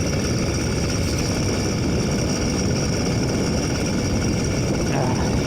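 A motorized bicycle engine holds high revs on a winter cross-country ride, a loud continuous buzzing drone mixed with heavy cold wind rumble, and no voice over it.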